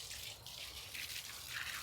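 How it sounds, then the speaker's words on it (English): A watering can empties onto a compost heap that holds dry sawdust from wood pellets, giving a steady, fairly quiet splashing hiss that runs unbroken with no voices. "Just give it a can of water"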